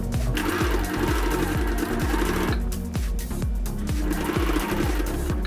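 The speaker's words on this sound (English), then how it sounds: "I'm just gonna go right into sewing." A sewing machine runs steadily, stitching a fabric medical face mask with elastic; rapid, even needle thumps repeat close and loud throughout, with a brief slowdown partway and no talking.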